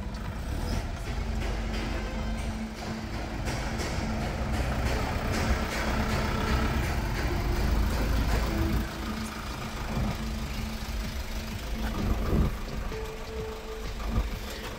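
A car pulls away and brakes briefly in a suspension and shock absorber test, engine and road rumble steady and fairly loud throughout with a short tonal squeal midway and a sharper thump near the end.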